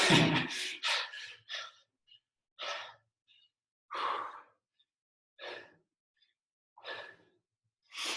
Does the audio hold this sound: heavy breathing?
yes